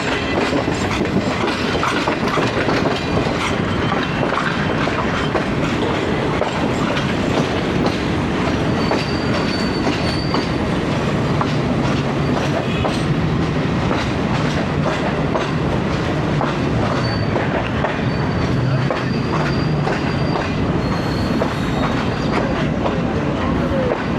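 A train rumbles and clatters steadily along the rails as it approaches Gujrat railway station in Pakistan, on a journey from Lahore toward Havelian. The dense wheel-on-track noise is continuous and loud throughout, with no talking.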